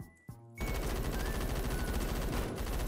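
MG36 machine gun firing in a first-person shooter game, a dense, loud, continuous burst of rapid automatic gunfire that starts abruptly after a short click and runs unbroken to the end.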